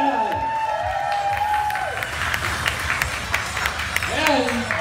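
Crowd applause and some cheering at a comic con costume contest for the second-place Batman, heard as a mid-distance patter of clapping beneath a host speaking over a microphone.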